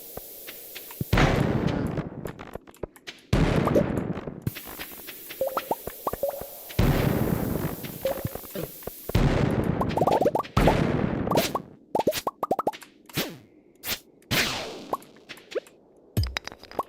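Bombs exploding in Stardew Valley's Skull Cavern, a series of loud punchy blasts with rattling debris, each burst separated by short gaps.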